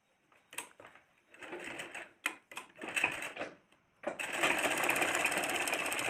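A sewing machine stitches the waistband strip of a small petticoat in short, uneven bursts of clattering needle noise, ending in a louder continuous run close to the listener.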